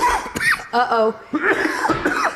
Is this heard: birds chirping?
no